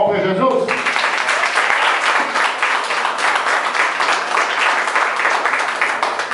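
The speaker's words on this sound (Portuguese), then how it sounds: "Você pode dar uma salva de palmas para Jesus?" A church congregation breaks into sustained applause for Jesus, dense clapping filling the room after a brief opening moment of voice, steady and loud throughout.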